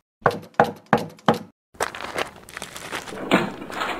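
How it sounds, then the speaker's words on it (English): Four sharp, evenly spaced knocks on a wooden door ring out close and loud, followed by shuffling and rustling sounds. "One day, Nasrettin Hoca's neighbor knocked at his door."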